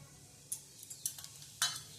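Cumin seeds hit hot oil for a garlic and red chili chutney, giving a quiet, soft sizzle with a few light metallic taps and clicks of a spoon stirring in the pan.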